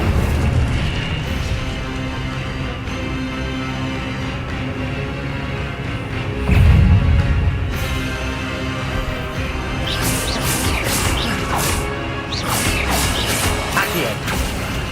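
Fire spell blasts in the Hogwarts Legacy video game: a dense, loud stream of booms and crashes with a heavy burst near the middle and crackling impacts later, layered over constant game noise and music.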